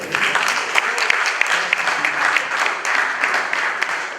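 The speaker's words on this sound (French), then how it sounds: "Je vous prie d'applaudir pour nos conférenciers" An audience at a university conference applauds the speakers, with dense, fairly even clapping from a crowd heard at moderate distance and sustained throughout.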